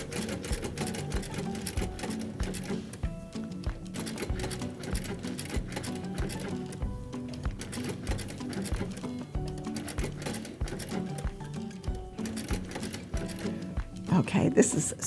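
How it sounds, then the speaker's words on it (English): A sewing machine stitches a floral machine appliqué, its rapid steady mechanical patter running almost continuously at close range, with only brief pauses and a louder burst near the end. "I can just sit here and sew just a little bit"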